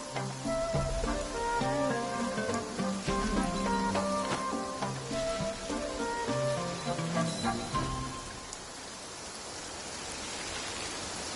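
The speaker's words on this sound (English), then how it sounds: "Let us find shelter from the rain." Rain falls in the video game Genshin Impact, first beneath melodic game music and then alone as the music fades, leaving a steady, even hiss of rainfall.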